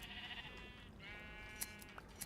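Sheep in Minecraft Bedrock Edition let out two drawn-out, wavering bleats one after the other, fairly quiet, with a few small clicks and game noises between them and no talking.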